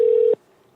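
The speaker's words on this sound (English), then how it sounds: "This is ringing." A telephone ringing tone on an outgoing call: a single steady electronic tone sounds clearly for about a third of a second, then cuts off abruptly into near silence.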